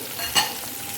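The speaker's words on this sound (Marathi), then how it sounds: "छान सर्व बाजूनी परतून झालेली आहे" Stuffed masala green chillies with garlic inside fry in a pan, giving a brief soft sizzle with one quick stirring clink over a low, steady background hiss.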